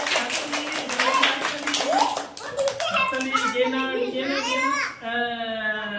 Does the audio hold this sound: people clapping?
yes